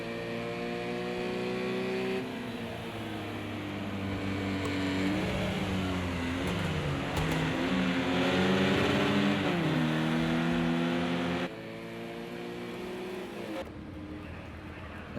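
Touring car and Porsche engines in a sim-racing endurance race at Imola whine and rev, rising and falling through gear changes and overlapping as cars pass, moderately loud with no voices.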